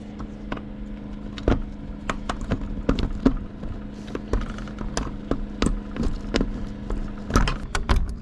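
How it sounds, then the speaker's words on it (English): A pair of keys for a 1981 Peterbilt 359 truck jangle and clink in a series of sharp metallic taps and rattles, close and fairly loud over a low steady hum. "Found these 2 keys."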